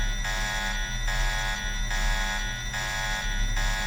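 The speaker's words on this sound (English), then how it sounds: "Maybe you heard that alarm that's going off?" An alarm going off in the Deus Ex video game, a loud buzzing tone that pulses on and off in a steady repeating cycle, roughly twice a second, with no voices over it.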